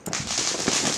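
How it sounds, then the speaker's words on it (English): A single burst of 4th of July fireworks, a sharp crackling explosion that hisses and sizzles loudly for a second. "It might be pretty loud because there's fireworks."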